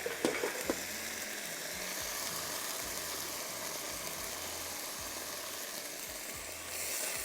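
Red onions and tomato puree fry in a hot pan with a steady, close sizzle, broken by a few clinks of a spoon near the start and continuing alone without voices.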